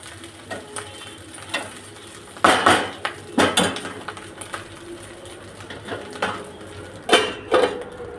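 Metal utensils clatter and scrape against a pan while leftover biryani is reheated, with sharp irregular clinks and bursts of stirring spread across the clip, some louder knocks standing out against a quiet background.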